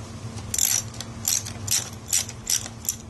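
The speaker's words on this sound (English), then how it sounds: "This is an 8mm Allen wrench on a ratchet here." A ratchet fitted with an 8mm Allen wrench loosens a self-extracting MegaEXO crankset bolt on a bicycle, clicking in about six close, crisp bursts at a steady back-and-forth rhythm over a faint low hum.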